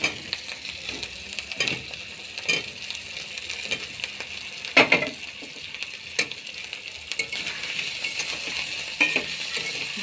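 Potatoes sautéing in hot oil in a pan, a continuous crackling sizzle broken by irregular scraping strokes and a couple of sharp metallic taps from a spatula.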